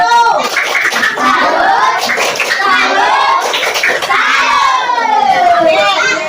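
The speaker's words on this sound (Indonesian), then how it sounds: "beri tepuk tangan untuk kelompok 1" A classroom of children claps and cheers loudly for group 1, with overlapping excited shouts and high voices rising and falling over continuous applause.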